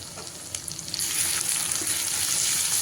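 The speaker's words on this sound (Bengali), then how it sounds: "লঙ্কা জিরে পেঁয়াজের সঙ্গে খুব ভালোভাবে কষিয়ে নেব" Cumin paste and chili paste sauté with onions in a pan for a dried-fish dish, a steady close sizzle that swells louder after the first second and keeps hissing without talk.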